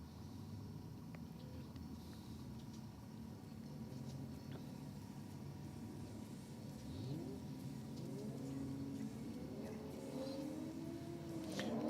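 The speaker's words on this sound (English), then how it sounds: "the Skyline taking on the BMW hatch down there in the rocket lane" A Nissan Skyline and a BMW hatchback launch down a drag strip, engines revving and whining as they accelerate away, heard at moderate distance and growing louder toward the end.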